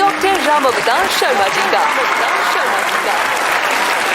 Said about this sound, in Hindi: तो तालियों के साथ स्वागत कीजिए डॉक्टर राम अवतार शर्मा जी का।